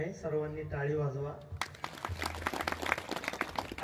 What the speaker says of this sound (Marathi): सर्वांनी टाळी वाजवा.